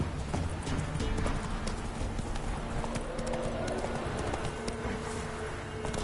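Roach the horse from The Witcher 3 galloping, fast rhythmic hoofbeats running continuously at moderate volume, with a voice speaking over the pounding.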